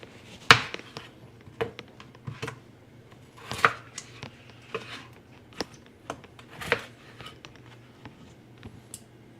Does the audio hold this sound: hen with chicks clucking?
no